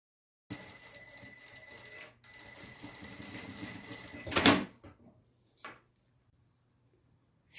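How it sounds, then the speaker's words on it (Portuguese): A sewing machine stitches the seam of a small fabric bag, running in a steady close whir that breaks off briefly, then resumes with a loud clack near the end. A few short bursts follow before it falls quiet. "vamos lá na máquina e vamos fazer uma costura, sempre inicia e finaliza com retrocesso"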